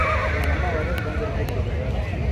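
Horses at a horse beauty contest in Anthiyur, a whinny and hoof clatter mixed into loud crowd ambience, with someone talking over the scene throughout.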